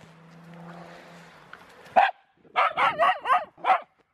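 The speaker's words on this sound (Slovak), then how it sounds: "ty máš hrozný štekot." A dog barks close by in a quick burst of about five sharp, loud barks after a single earlier yelp, heard alone over a quiet indoor background.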